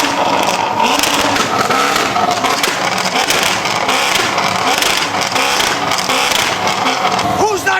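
A C7 Corvette's exhaust revs loudly and continuously up close, a harsh sustained engine roar filling the whole stretch with people talking over it.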